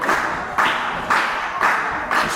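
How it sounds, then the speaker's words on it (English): A wrestling crowd at a UKW show claps in a steady rhythm, with loud bursts of massed clapping coming about twice a second and no clear voices above them. "This crowd coming to life."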